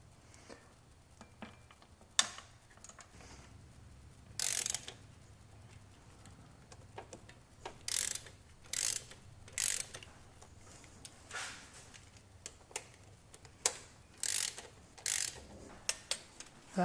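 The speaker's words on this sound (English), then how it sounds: "when we torque these down, we're going to kind of go in a crisscross pattern" A torque wrench tightens turbo mounting bolts in a crisscross pattern on a budget build, giving a series of short, sharp ratcheting clicks in bursts with pauses between, fairly quiet against a low background hum.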